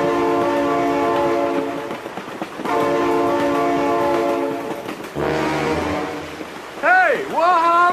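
A train sounds its horn in the BeamNG Drive driving game, long sustained tonal blasts repeating several times, loud and close, with a voice rising in pitch near the end.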